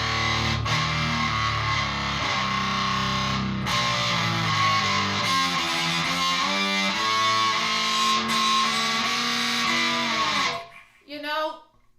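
Electric cello played through an effects patch called heavy and dirty that stays fairly clean, sustained bowed notes and shifting pitches ringing loud and continuous before cutting off, with a voice speaking briefly at the end.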